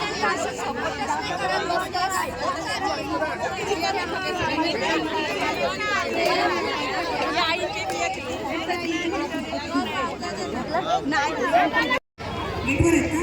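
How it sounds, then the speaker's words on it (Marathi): A large crowd of women chatters at a village festival, their overlapping voices forming a steady, loud babble close by, broken by one brief dropout near the end. "बघा किती गर्दी आहे ती महिलांची"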